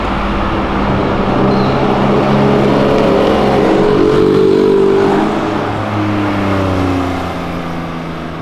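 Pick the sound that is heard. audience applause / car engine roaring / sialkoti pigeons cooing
car engine roaring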